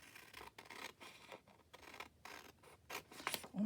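Scissors snip and rustle through magazine paper while cutting out a stamp collage picture, a run of short, close crisp cuts with brief pauses between strokes.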